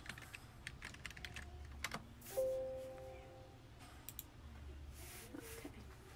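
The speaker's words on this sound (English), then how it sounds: "And you'll type in whatever you want the image to be." Computer keyboard being typed on close by, quiet bursts of rapid key clicks separated by short pauses, with faint background noise.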